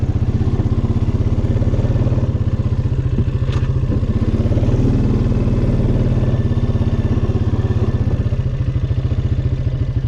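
A Honda 500 Foreman 4x4 ATV engine runs steadily close by, a loud, even low chugging putter with a faint mechanical clatter that holds throughout without change.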